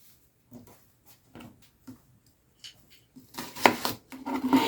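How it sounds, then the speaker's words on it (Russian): Knife chopping onion into small cubes on a cutting board, a few sparse, soft taps at first, then a denser burst of quicker, louder cuts near the end, close and quiet otherwise. "Я сейчас буду нарезать лук. Лук для жарки нарезаю кубиками."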